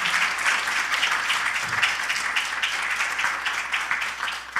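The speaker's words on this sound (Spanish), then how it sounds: "Un aplauso al Señor." Congregation applauding the Lord during an evangelical church service, a steady, dense wash of many hands clapping together without pause, fairly loud and sustained throughout.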